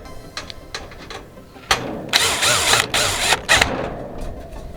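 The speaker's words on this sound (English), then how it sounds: "Get the screw started. And we'll get our little screwdriver." A small screwdriver turns a screw into a Lava Heat Italia heater assembly, giving close, uneven clicks and scraping metallic ratchet-like sounds in short bursts.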